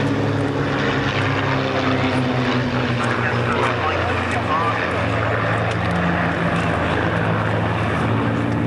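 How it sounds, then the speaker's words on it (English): The Battle of Britain Memorial Flight formation, an Avro Lancaster flanked by two fighters, passes over an air show at RAF Valley on Anglesey, a loud steady drone of piston engines and propellers filling the whole stretch. "we can see the Memorial Flight formation. Venerable Lancaster flanked by the two famous fighters."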